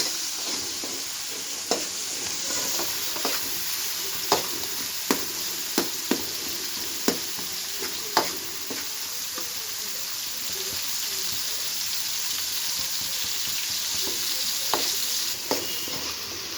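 Chopped tomatoes fry with a steady sizzle in a pan for upma while a spoon stirs and scrapes them, sharp clicks of the utensil against the metal repeating every second or two over the continuous hiss, with no voices.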